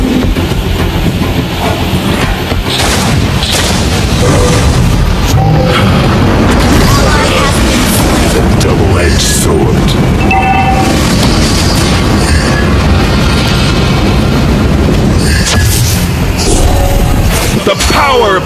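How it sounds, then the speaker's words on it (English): Dense, loud battle effects from the Mobile Legends video game as a turret is destroyed. Booming impacts and clattering layered game sounds run continuously over a full soundtrack throughout. "Our turret has been destroyed."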